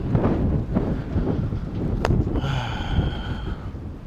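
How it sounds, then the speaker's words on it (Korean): Wind blowing steadily across the microphone on Iho Teu beach in Jeju under a cloudy sky, a continuous rough rumble that stays loud throughout with no voices heard. "와 바람 그냥 시원하고 좋네"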